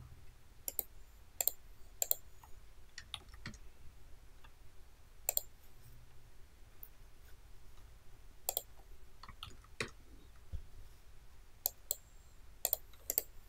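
A computer mouse on a Windows 7 desktop clicks sharply and close by, single and double clicks at irregular intervals over a quiet background hum.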